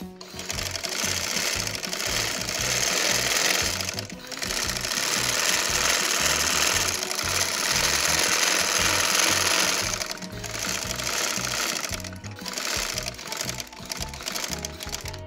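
A sewing machine runs steadily while stitching a dhoti salwar, a continuous close whirring with brief pauses and restarts, with no talking.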